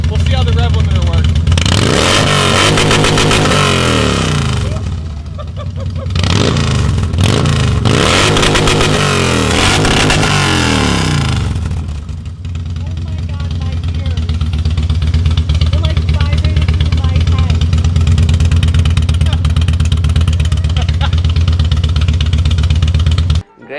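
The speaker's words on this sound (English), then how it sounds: "Bike's warmed up. We'll see how the rev limiter works." A warmed-up Harley-Davidson motorcycle engine revs hard in repeated bursts up to the rev limiter, with stuttering cutoffs at the top, then drops back to a loud, steady idle. The engine is close and loud throughout.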